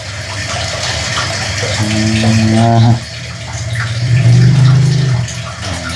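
Clothes being hand-washed in a basin of water, with steady close sloshing and splashing that swells and fades, no talk.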